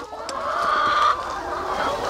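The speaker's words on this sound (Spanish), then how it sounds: "Pero pues acá tenemos harta gallina." Several hens cluck around a Colombian farmyard, a cluster of close, overlapping clucks and a short drawn-out call in the middle, heard alone without speech.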